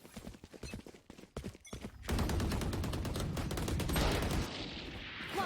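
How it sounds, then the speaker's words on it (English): Gunfire in the Valorant video game, starting as scattered separate shots, then a dense, loud, sustained stretch of rapid firing that fades a little near the end, with no talking. "The sniper going to come out for Draken. It's just the Marshal"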